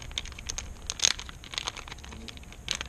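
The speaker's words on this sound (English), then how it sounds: "I just learned how to open up a soft plastic bag" A soft plastic bag is torn open during an unboxing, giving quiet, scattered crinkles and short tearing rasps in irregular bursts close by, with no talking.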